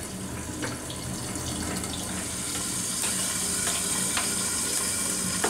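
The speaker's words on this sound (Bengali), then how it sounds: "কয়েক মিনিট এটাকে ভেজে নিব।" Zucchini frying in hot oil in a pan gives a steady, close sizzling hiss with scattered light crackles and pops, with no talking.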